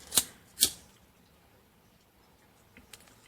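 Scissors snip paper twice in quick succession, two sharp close crisp cuts, followed by faint small rustles and clicks in a quiet room.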